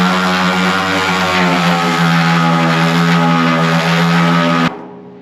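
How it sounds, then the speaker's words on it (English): A DA sander fitted with 80 grit runs against a John Deere BN tractor hood: a loud, steady motor whine with strong tonal hum, grinding continuously for about four and a half seconds before cutting off abruptly. "DA sander with some 80 grit."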